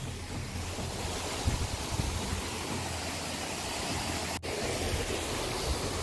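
Shoja waterfall, a hidden fall near Jibhi in Himachal Pradesh with reduced snowmelt flow, gives a steady broadband rush of falling water close by, constant and unbroken throughout with no voices.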